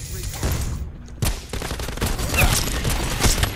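Rapid gunfire from a weapon in a shooter video game, an Argus stealth class loadout, with repeated loud broadband shot bursts throughout and a sharp crack near the middle, over low background game noise.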